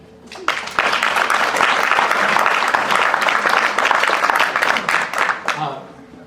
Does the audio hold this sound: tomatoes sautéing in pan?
no